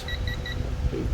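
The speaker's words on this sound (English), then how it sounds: "beeps when it's getting close to the certain torque you need." Three short, high electronic beeps from a torque wrench nearing its set torque during a Honda Grom oil change, in quick succession over a low background rumble.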